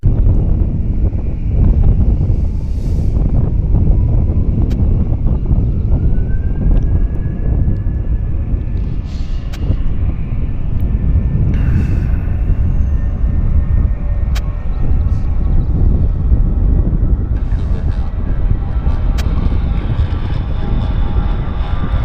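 A United airliner taking off from Vancouver airport, a loud, sustained jet engine roar with a rising whine and wind buffeting the microphone throughout, heard outdoors from a spotting position.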